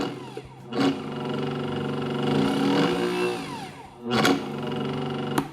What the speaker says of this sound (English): you can hear it just kind of jerk the gears